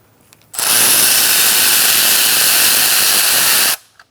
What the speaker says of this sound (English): now we're going to take our valve cover bolts out